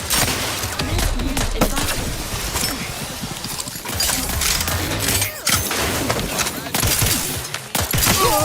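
A big gun in the Outer Worlds 2 video game, firing in dense, rapid bursts of sharp cracks that run almost continuously, loud and close, with a voice speaking at times underneath.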